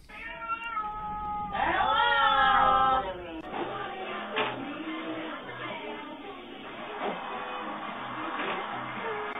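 A cat meows loudly as it comes through a cat flap, one long drawn-out rising call followed by a few shorter chirping meows, close to the microphone and clear above low background noise.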